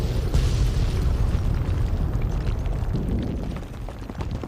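A mansion blows up in Fallout 3, a heavy booming blast with deep rumbling debris that rolls on and slowly fades over several seconds, with no voices.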